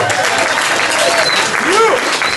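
Loud, close applause and crowd cheering for boxer Paulie Malignaggi at a post-fight press conference after Bernard Hopkins vs. Chad Dawson, with whoops rising over the clapping.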